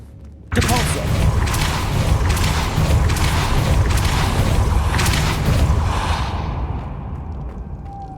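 A Depulso spell is cast in Hogwarts Legacy, bursting in abruptly with a loud, sustained forceful rush that holds for several seconds, then fades gradually into quiet.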